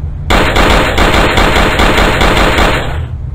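Loud, close automatic gunfire from a flash video game rattles in one sustained burst for about three seconds, rapid and evenly spaced, then cuts off, with no talking.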